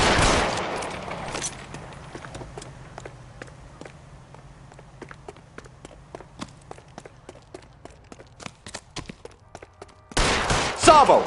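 Gunshots in a video game, a long run of sharp single shots at an irregular quick rhythm over a low hum, fairly close, ending in a louder noisy burst.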